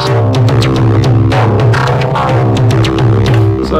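Elektron Monomachine drum tracks layered together, a loud, dense electronic groove of sharp repeating hits over sustained synth tones, steady rhythm throughout.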